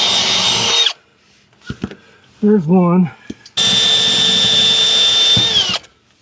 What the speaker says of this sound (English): we're just going to take our drill and drill that out